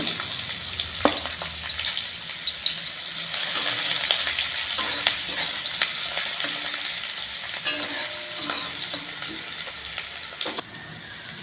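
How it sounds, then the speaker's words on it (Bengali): Chopped onion hits hot oil in a pan and sizzles steadily, with scattered stirring clinks and crackles over a constant frying hiss, close up and without talk. "দিয়ে দেবো তেল পেঁয়াজ কুচানো"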